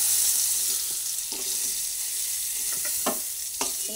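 Pieces of pointed gourd (potol) fry in hot oil with a bright, steady sizzle, broken by a few soft clinks and scrapes of a utensil moving them around the pan.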